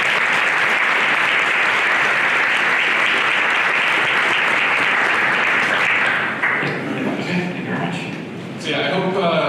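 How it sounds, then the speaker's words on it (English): Audience applause for a speaker at a corporate tech talk on bioinformatics, a full steady burst of clapping for about six seconds that fades as a voice returns. "let's give a round of applause to Leo"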